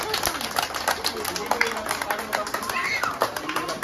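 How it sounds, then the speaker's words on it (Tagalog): A crowd at a community relief and food distribution event applauds in a short burst of scattered claps, with voices and cheering over it. "Palakpak!"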